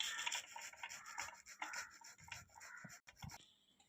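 Peeled, cooked plantain rubbed against a grater, giving a steady run of close, rasping scrapes with brief pauses near the end.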